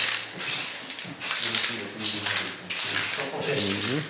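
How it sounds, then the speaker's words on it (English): Scanning spray hissing onto a part to texture it for 3D scanning, three loud spray bursts of roughly half a second to a second each, separated by pauses with nearby talking between them. "If you don't want to use the dots, you can use the spray."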